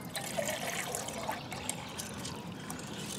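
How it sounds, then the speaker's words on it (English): Water trickles and splashes steadily into a titanium cup outdoors as it fills partway, a close, continuous pouring sound. "all I'm going to do is fill that partway with some water."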